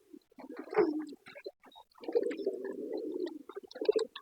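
A pigeon coos softly in short rumbling phrases near its newly hatched chicks, two bursts of low throaty calls separated by a brief pause, close and quiet with no talking.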